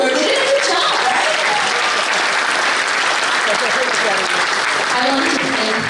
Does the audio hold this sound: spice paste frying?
no